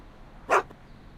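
A single short dog bark in the Back to the Future video game, a sharp burst standing alone against quiet background noise, with a faint trailing sound at the very end.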